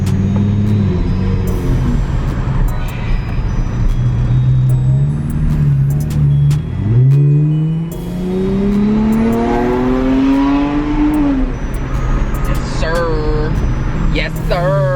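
A Dodge Challenger SXT Plus accelerates from a stop, heard from inside the car through rolled-down windows: a loud engine rumble swells as it revs through rising sweeps, with the car in motion throughout.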